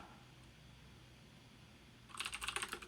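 Rapid keyboard typing during a live coding session on a computer, a burst of quick clicky keystrokes starting after a quiet stretch and continuing to the end, fairly close and alone.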